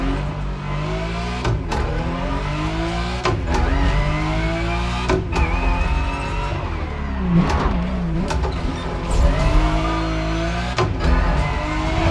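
Car engine from The Crew Motorfest racing game, a steady continuous drone with rising and falling revs and repeated sharp gear-shift breaks, loud and alone throughout.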